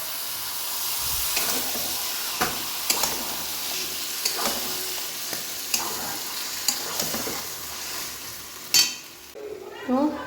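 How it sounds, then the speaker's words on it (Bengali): Spinach paste sizzles and fries in a pan with sautéed chicken under a steady hiss, with repeated spoon taps and stirring knocks throughout and a louder burst near the end. "এর মধ্যে আমি এই এখন পেস্ট করা পালং শাকটা দিয়ে দেবো।"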